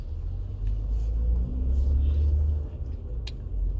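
Low, steady engine rumble from inside a car idling and creeping along, with faint clicks and no talking.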